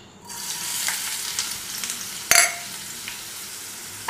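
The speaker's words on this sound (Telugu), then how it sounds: "ఉల్లిపాయలు దోరగా అయ్యేంత వరకు వేయించుకుందాము" Chopped onions dropped into a hot tempering for masala dal set off a steady, bright sizzle, with a sharp clatter of stirring partway through and a continuing crackle afterward, close and unaccompanied by talk.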